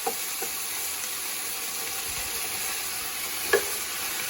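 Minestrone vegetables toast in a soup pot with a steady, even sizzle and hiss, with a single sharp clink of a utensil near the end and no talking.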